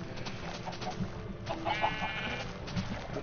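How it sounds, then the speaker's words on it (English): Sheep bleating in the video game Minecraft, a few short nasal bleats scattered over a steady background hum, moderately close with no speech. "Did I get two sheep in?"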